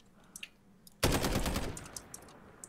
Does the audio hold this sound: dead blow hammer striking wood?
no